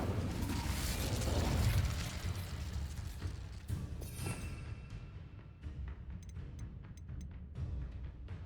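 A fire spell blasts in a Hogwarts Legacy battle, a loud whooshing burst that swells over the first couple of seconds and then settles into crackling rumble, with scattered sharp pops and clicks trailing off near the end.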